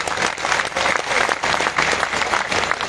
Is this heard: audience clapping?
yes